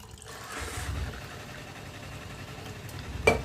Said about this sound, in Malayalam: നന്നായി നമുക്ക് പഞ്ചസാര അരിച്ച് ചേർത്തതിന് ശേഷം നമുക്ക് ഇതിലേക്ക് നല്ല തണുത്ത വെള്ളം ഒഴിച്ചു